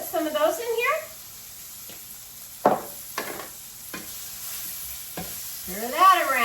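Sesame seeds are added to beans in a pan and stirred, giving scattered scrapes and clinks with a soft sizzle underneath, while a person talks at the start and end.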